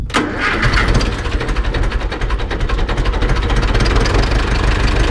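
An Ursus C 360 tractor engine runs after a rebuild, starting with a sharp burst and then holding a loud, steady, rapidly pulsing diesel idle that firms up as throttle is added.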